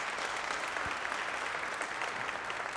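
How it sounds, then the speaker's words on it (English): A room full of people applauds at a piano recital fundraiser, steady, even clapping at moderate distance that continues without break and without voices over it. "So please, a big round of applause."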